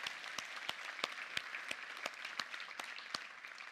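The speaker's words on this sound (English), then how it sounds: "let's give them a round of applause." Applause from a keynote audience at a 2018 vendor awards presentation, a soft, fairly distant crowd clapping with a few sharper claps standing out over the steady patter.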